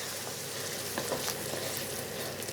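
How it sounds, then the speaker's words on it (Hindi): Chicken korma cooking in a pot as yogurt goes in and is stirred through, a steady close sizzle with faint scraping of the spoon, no voices. "अब हम इसमें डालेंगे दही और इसे अच्छे से मिक्स कर लेंगे"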